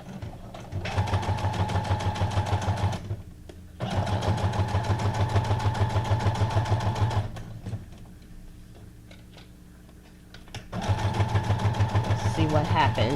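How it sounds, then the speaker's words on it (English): A sewing machine runs a straight stitch, its needle chattering in fast, even bursts that stop and start again, with a quieter pause and a few soft handling noises between runs. "I'm going to do a straight stitch on here"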